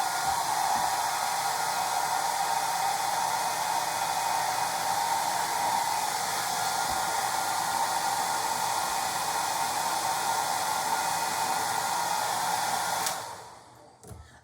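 A hair dryer blows with a loud, steady whooshing hiss for a long stretch, then switches off and winds down near the end.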